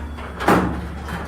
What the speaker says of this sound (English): So I'm going to shut the garage door here.